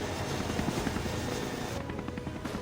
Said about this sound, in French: Et l'hélicoptère.